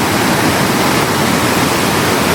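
Rushing water flowing hard along the Kuruwita road on the way to Sri Pada, a loud, unbroken roar of white-water noise that stays steady and close throughout, with no voices.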